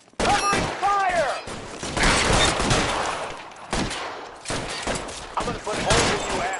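Rapid gunfire in the video game L.A. Noire Remastered on PS4: bursts of shots crackle near and loud across the whole stretch, with voices shouting over the shooting.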